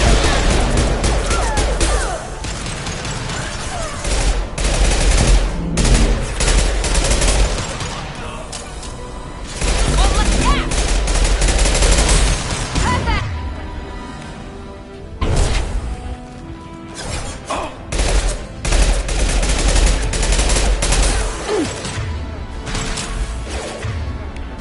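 Heavy weapon blasts and crashing impacts boom in a Mass Effect 2 battle, loud repeated bursts with short lulls between volleys.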